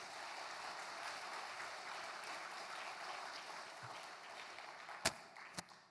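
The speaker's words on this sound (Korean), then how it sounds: "박수 한번 하겠습니다" A church congregation applauds in a soft, steady patter of many hands, fairly distant, with a couple of sharper knocks near the end.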